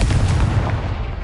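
A Confringo fire spell explodes in the video game Hogwarts Legacy, a loud, dense booming blast that fills the whole brief moment with deep rumble.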